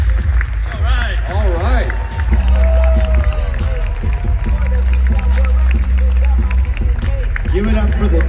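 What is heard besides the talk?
audience clapping and cheering at a Los Angeles growth conference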